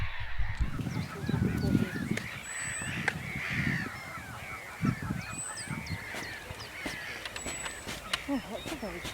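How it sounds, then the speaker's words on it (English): Geese honking noisily near their nests at Carsington Water, a chorus of repeated nasal calls at mixed distances with louder bursts early on, under light background noise and some human voices. "Can you hear all those noisy birds"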